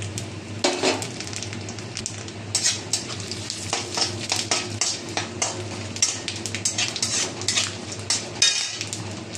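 Whole spices crackle and sizzle as they hit hot oil and ghee in a home kitchen pan, a loud continuous frying hiss broken by sharp pops and clinks of a stirring spoon against metal.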